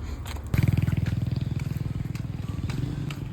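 Family motorcycle ride: a close, loud engine starts up and throbs in a steady rapid pulse with a slight rise and fall, and no one speaks over it.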